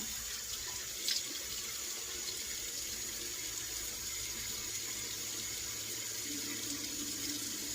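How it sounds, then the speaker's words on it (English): Water runs steadily from a tap into a sink, a constant soft hiss at low level with a brief clink near the start and no voices. "let me get some water on here."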